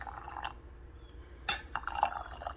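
Warm water poured into a glass jar of homemade apple cider, a faint trickle at first and then a louder burst of splashing and filling from about halfway through, with no talking.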